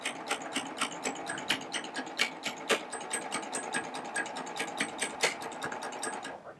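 A Baby Lock Triumph serger sewing machine chaining off fabric, running steadily with a fast, even mechanical clatter and rhythmic needle ticks, close and continuous with no talking.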